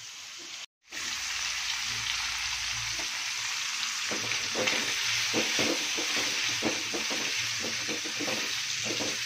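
Beef tossed in rawon spice paste frying hard in a pan, a loud continuous hiss with repeated scraping stirs growing busier, after a brief cut at the start.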